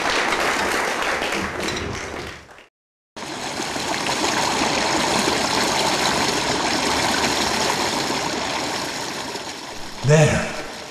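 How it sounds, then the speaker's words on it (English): A stage play's waterfall effect: a steady, broad rush of falling water fills the scene, cutting out briefly to silence before resuming and continuing evenly, with a short louder knock or thump near the end. "The waterfall."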